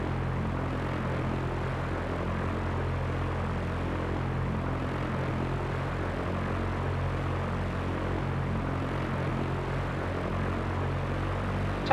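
A Piper Cherokee propeller airplane taxies in a flight simulator, its engine droning in a steady, unbroken low hum with a constant propeller buzz, moderately loud and alone throughout.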